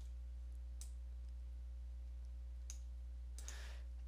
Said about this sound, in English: Go ahead and left click on that one time.